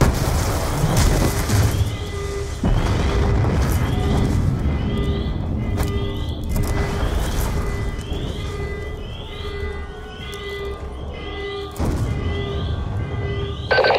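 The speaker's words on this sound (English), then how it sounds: "We're monitoring multiple explosions across the facility." Repeated booming explosions across a facility in Black Ops 2, several heavy blasts punctuating a rumbling game soundscape with rhythmic chirping alarm tones in between, loud and close, no talk.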